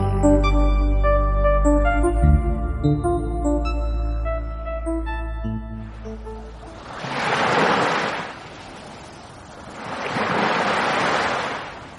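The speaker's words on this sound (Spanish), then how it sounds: "¡Wow, el mar!" Sea waves surge and break in two broad swells, loud and close, with a rushing wash between them and no voices, after a sustained musical passage fades out.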